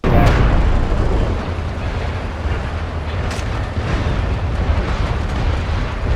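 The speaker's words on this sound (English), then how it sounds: "I actually hit people with that airstrike." A video-game airstrike lands in a continuous, loud, rumbling blast that roars through the whole stretch with no pauses and no voices.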